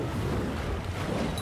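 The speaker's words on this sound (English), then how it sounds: "Then let's fire up the engines." Boat engines rumble into life in the Peppa Pig World Adventures video game, a steady low churning drone with a washy, watery roar that holds at an even level throughout.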